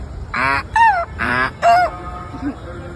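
A young child vocally imitates a donkey's bray: four loud, alternating hee-haw honks in quick succession, close and clear, with a faint background hum.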